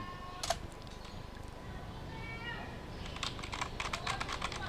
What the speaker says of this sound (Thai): อ่าแล้วก็พิมพ์นะครับ